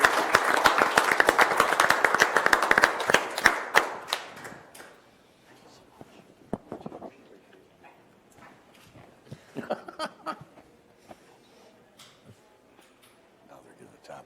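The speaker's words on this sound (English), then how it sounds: "You give him a round of applause." People at a Board of Supervisors meeting give a round of applause, brisk and fairly close for about four seconds, then the clapping dies away to scattered claps, shuffling and quiet talk.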